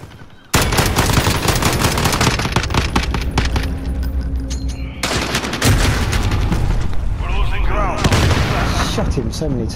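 Loud, dense automatic gunfire and rapid shots fill a Call of Duty: Modern Warfare match, with brief booms, a short lull midway and voices mixed into the firefight.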